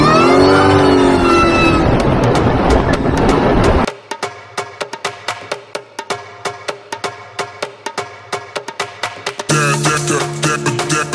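A Ford Mustang Terminator Cobra with a supercharged four-valve V8 revs loudly and close for several seconds. It then settles into a steady rhythmic pulsing for a few seconds before the engine note swells again.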